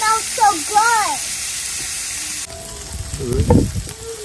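Pork curry masala with onions sautéing in a pan makes a sizzle. A high whistling, birdlike tone is heard at the start, and after a pause it returns with louder, closer stirring and frying.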